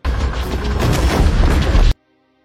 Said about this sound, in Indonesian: ketika Leah masuk ke dalam mobil, ledakan terjadi